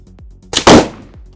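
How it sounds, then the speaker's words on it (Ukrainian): A single loud gunshot cracks out at a shooting training session, its sharp blast fading quickly, with faint thumps before and after. "Один постріл, вогонь."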